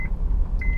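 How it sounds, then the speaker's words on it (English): A car's seatbelt warning chimes inside the cabin of a vehicle driving through an RV park: two short high beeps, one at the start and a longer one near the end, over low engine rumble. "Might have to put the seatbelt on because of that annoying beep."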